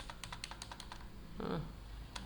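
Keys clatter on a computer keyboard during accounting data entry, a quick run of light clicks, then a firmer single press of the Enter key, and one last click near the end.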